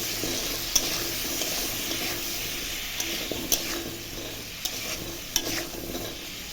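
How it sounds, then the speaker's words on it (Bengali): Cauliflower and potatoes frying in a pan, with a steady crackling sizzle and a few sharp stirring clicks against the pan, alone and close by. "এখন ফুলকপিটা ভালো করে ভাজা ভাজা করব"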